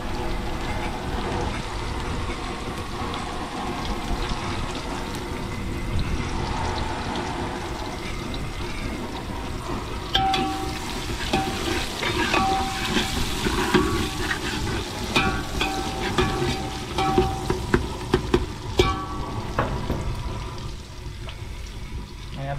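Chillies and tomatoes fry in oil in a pan aboard a fishing boat at sea, giving a dense, continuous sizzle with scraping stirs and occasional clinks that grow busier partway through.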